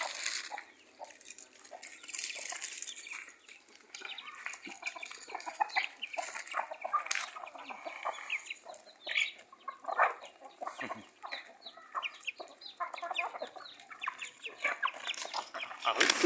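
Gamecocks of several strains, including a crescent-comb bird, fight while being fed; repeated clucks, squawks and scuffling wings fill the recording continuously at close range, with no talk.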